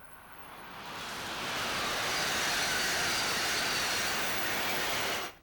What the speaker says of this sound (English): Listen to what it sounds like when one of these high-speed Amtrak trains approach.